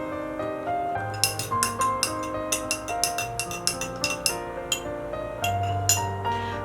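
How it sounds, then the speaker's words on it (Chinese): A spoon stirs freshly added boiled water in a cup, giving rapid, rhythmic clinks and scrapes against the cup wall, close and bright, over a steady background tone. "添加完开水之后，我们用勺子给它搅拌均匀。"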